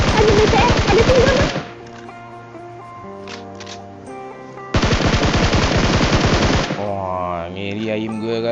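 Rapid automatic gunfire from the PUBG Mobile video game rattles in two long, loud bursts separated by a brief lull, with game sounds in between and no one talking.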